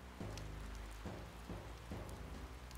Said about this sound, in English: But now it's raining.